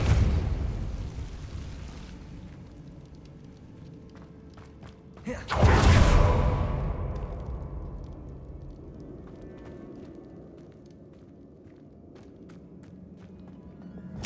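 Depulso spell cast in Hogwarts Legacy, a sudden loud whooshing blast that swells and then fades into a lingering rumble, following a stretch of low ambient game sound.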